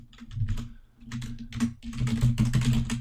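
Rapid, uneven keystrokes clatter on a computer keyboard as an email address is typed. The taps come in close bursts with a brief lull, loud and near, with no talking.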